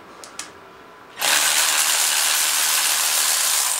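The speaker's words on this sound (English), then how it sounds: "Do you want an electric ratchet? That might be a good idea. That's loud." An electric ratchet removing bolts during a teardown of a 3800 L67 engine kicks in after a couple of faint clicks, then whirs loudly and steadily for several seconds nearby.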